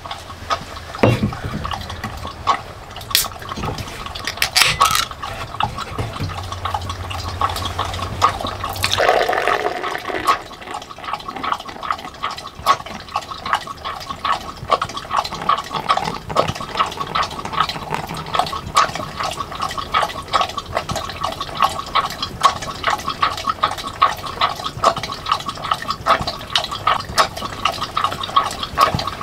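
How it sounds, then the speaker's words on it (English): A dog laps water steadily in the background of a cabin in the Allegheny National Forest, a continuous wet splashing and dripping texture with a brief louder burst near the start, heard without talk. "you can hear her drinking her water in the background"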